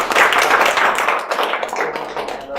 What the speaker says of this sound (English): let's give Professor Howee a big round of applause once again